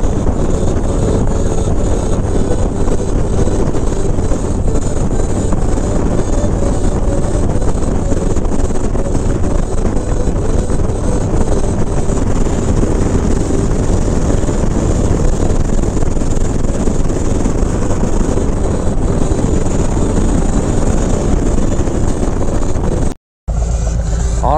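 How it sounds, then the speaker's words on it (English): Car exhaust fitted with zombie baffles droning steadily while cruising on the road, a continuous loud low rumble mixed with wind and road noise, with a brief dropout near the end. "I can hear my radio, but I can still hear my exhaust."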